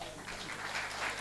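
Audience at a poetry recitation evening in Rohini clapping together, a soft, steady patter of many hands heard from a distance and fairly faint throughout.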